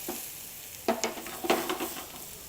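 Spices and turmeric being stirred in a cooking pot for biryani, soft sizzling with a few scraping strokes of the spoon in short bursts, close and fairly quiet.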